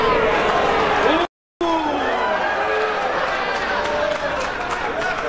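A crowd at a 2017 Mosconi Cup pool match reacts with rising murmurs and ooh-and-ah sounds, a broad swelling hum of many voices with a brief cut in the middle, continuing under commentary.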